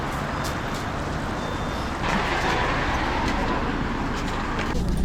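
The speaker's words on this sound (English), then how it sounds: "Let's take the bus!" A minibus carries passengers along a rural Russian road toward Yasnaya Polyana, with a steady engine drone and road noise filling the cabin, faint clicks and a brief beep on top, and no talk.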